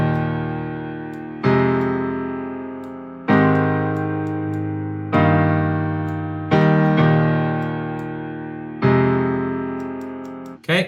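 Piano chords shaped by EQ in FL Studio, with both the low and high end cut back, strike one after another every couple of seconds, each ringing out and slowly decaying before the next, close and clear with no voices.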